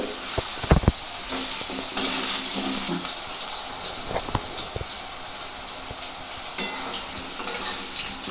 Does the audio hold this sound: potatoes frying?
yes